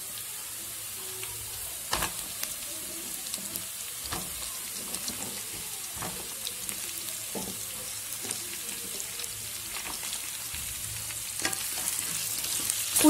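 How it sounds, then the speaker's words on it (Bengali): Cauliflower and potato pieces frying in a pan for a rohu fish curry, giving a continuous sizzle with occasional sharp clinks and scrapes of stirring, close up and without speech. "ফুলকপি আর আলু একটু ফ্রাই করে নেব।"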